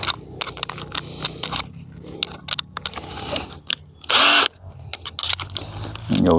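Power drill with a slightly bigger bit boring holes into deadwood for a garden bug hotel, short bursts of whirring and crunching spread across several seconds with pauses between, fairly quiet overall.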